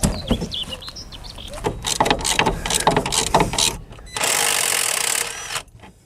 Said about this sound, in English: It requires a lot of force, so I'm using my torque wrench to crack it loose.